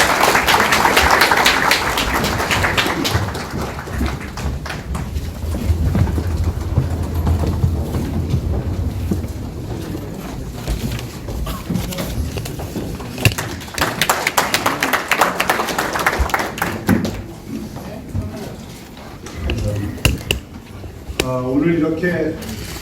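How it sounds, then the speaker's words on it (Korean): Hall audience at a Korean political unification committee report rally applauds to welcome a speaker, with bursts of clapping rising and falling amid music and voices, strongest at the start and again midway. "박수로 맞아주십시오."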